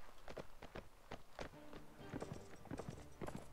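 Horses galloping in the Mount and Blade video game, a dense run of hoof clip-clops with uneven rhythm, near and fairly loud, several mounts overlapping as a charge sweeps past.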